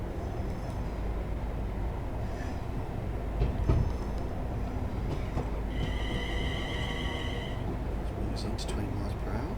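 A three-car train in Train Sim World 4 pulls in on a steady low rumble, with a bright squeal of wheels or brakes rising toward the end while a voice talks over it.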